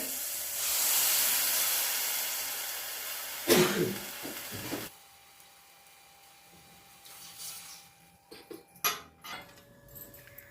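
Water rushes into a hot pot of jowar rava with a hissing spray, followed by a short steamy burst and a few metallic clinks.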